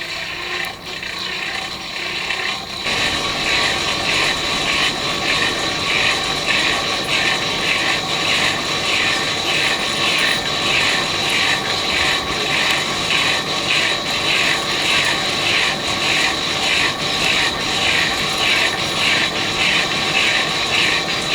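Hand-cranked blower fan on a portable coal forge starts after a few seconds, then a loud, continuous geared whir with a rapid rhythmic ratcheting clatter, close and steady throughout, no talking.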